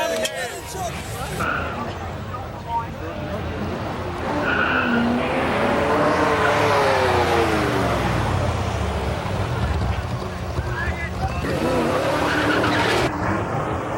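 Top alcohol dragsters roar down the strip at Summernats, loud engine noise with tyre squeal building and swelling over about fourteen seconds, crowd hubbub and commentary mixed underneath.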